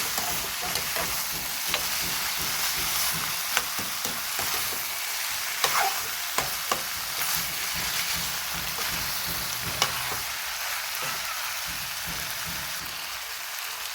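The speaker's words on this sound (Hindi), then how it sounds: "पहले मैं फ्राई करूँगी" A wazwan dish fries in a pan with a continuous crackling, rain-like sizzle and occasional sharp clicks from stirring, moderately loud and steady throughout.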